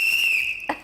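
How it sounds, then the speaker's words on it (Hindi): A whistle is blown once in a long, steady, piercing shrill note that wavers slightly before ending with a short noisy burst, heard alone and fairly close. "जहां बैठे हुए बस सीटी बजा देते"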